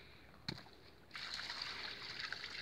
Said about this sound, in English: put a bit more water in there until it comes right up into the classifier